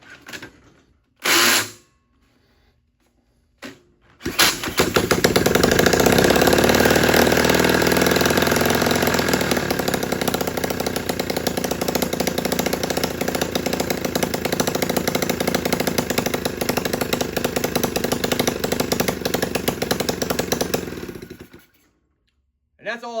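A newly installed small engine fires up after a few short cranking attempts, then runs steadily at a loud, rough, chainsaw-like idle for about sixteen seconds before cutting off, close to the listener.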